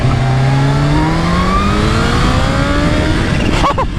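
A Kawasaki Ninja H2 supercharged motorcycle accelerates hard, its engine note climbing steadily through the gears, loud and close, with a short sharp burst near the end.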